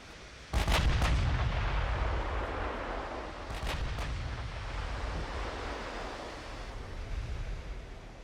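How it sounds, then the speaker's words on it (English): Heavy battleship guns fire in the naval warfare game Ultimate Admiral Dreadnoughts: a loud, booming salvo is followed by a second pair of blasts a few seconds later, with a steady rumble like wind and surf running underneath. "the guns are firing. We have rounds coming in as well."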